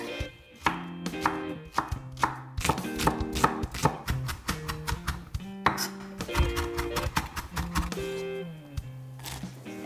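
Spring onion chopped on a cutting board with a knife, a rapid string of sharp, close knife strikes in bursts of rhythmic taps, loud and continuous with brief pauses between runs.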